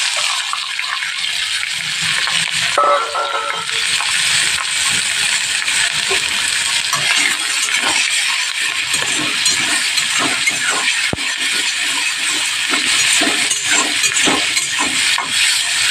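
Onion and green chili, added after black cumin, fry in a wok with a loud continuous hiss and sputter, broken by occasional clinks and scrapes of a utensil.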